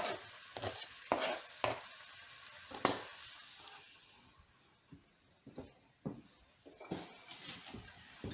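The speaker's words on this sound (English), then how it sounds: "And I'm going to add the mushrooms." Mushrooms sautéing in a pan for a traditional Italian risotto, with a steady soft sizzle under repeated sharp scrapes and clinks of a utensil stirring against the pan.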